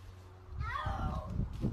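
A drenched cat meows once, a drawn-out, strained cry rising and falling over steady background noise. It is fairly faint and close, with rustling around it.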